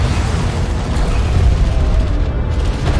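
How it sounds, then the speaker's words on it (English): Attack missile barrage explosions land on a carrier in a strategy video game, a dense, continuous roar of booming blasts with no clear gaps, loud and close. "Attack missile barrage lands as well, since carrier's down about half health already."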